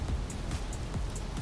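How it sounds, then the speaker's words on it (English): Acid rain pattering steadily in the Space Engineers game, a continuous soft wash of drops with low rumbling gusts and faint high chimes, fairly quiet and with no voices. "And more acid rain."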